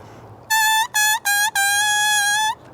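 A bare oboe double reed blown on its own gives four buzzy, reedy squawks at one steady pitch, the last held longest, close and loud.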